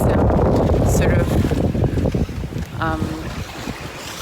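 Strong wind rushes and buffets over a sailboat under way at about 6 knots, a constant loud roar with water wash underneath and a voice talking over it.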